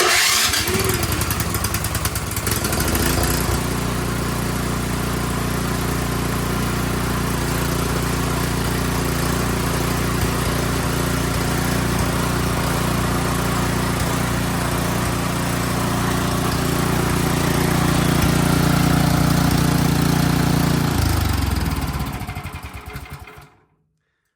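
An Ariens Deluxe 30 snow blower engine fires up, coughing at first, then settles into a loud, steady small-engine idle with a brief throttle rise before it cuts out near the end.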